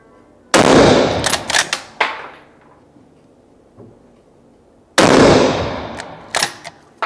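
Two sharp, loud rifle shots from a LIWA ARMS straight-pull hunting rifle firing Hornady ammunition outdoors, each followed by a rolling echo and the clack of the straight-pull bolt being cycled.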